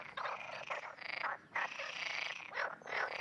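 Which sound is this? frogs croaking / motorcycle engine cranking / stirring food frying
frogs croaking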